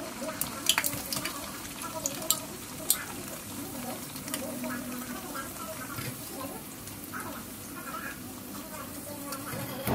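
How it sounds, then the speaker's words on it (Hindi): Pea-stuffed kachori deep frying one by one in hot oil, a steady close sizzle and bubbling with scattered crackles and a few brighter pops early on. "एक एक करके कचौड़ी को बेल के डीप ऑयल में फ्राई कर लीजिए।"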